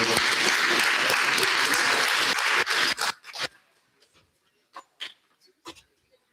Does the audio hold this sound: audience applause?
yes